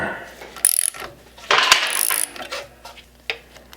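Ratchet clicking as an 8 mm socket loosens a bolt on a Ducati Scrambler motorcycle while fitting Givi crash bars, in several short close bursts separated by brief pauses.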